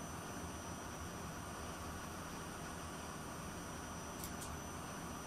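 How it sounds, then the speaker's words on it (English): Airliner reverse thrust roaring on landing in a flight simulator game over Norway, a steady broadband engine rush of constant level running throughout without any break. "Reverse thrust, flaps coming in."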